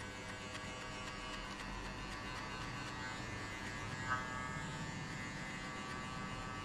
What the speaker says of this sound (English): And flick the clipper like that way.